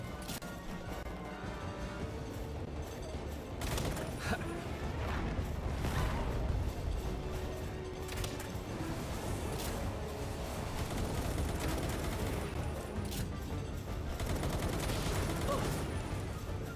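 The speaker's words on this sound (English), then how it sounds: "Everyone's got a machine gun." Sustained automatic gunfire in the survival game Palworld, dense and continuous bursts with crashing impacts mixed in, loud and close throughout the whole stretch.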